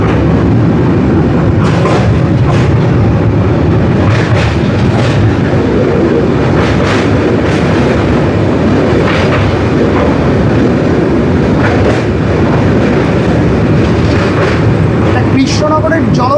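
A night train on a rural Bengal route rolls steadily along the rails, its continuous rumble broken by repeated clickety-clack wheel beats over the joints, loud and close throughout.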